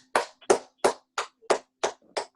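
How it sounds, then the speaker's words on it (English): One person claps slowly, seven sharp, evenly spaced claps close by, with nothing else sounding between them. "The sweet applause from Mel"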